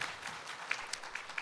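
Seated audience at a financial retirement-income seminar applauding together, a dense, even wash of many hands clapping at moderate level, with a few sharper individual claps standing out, no talk over it.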